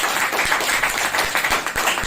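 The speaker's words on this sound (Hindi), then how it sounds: "एक जोरदार ताली बजा सकते हैं।" A church congregation at a Wednesday service gives a brisk, loud round of clapping, dense and close, with a few sharper individual claps standing out.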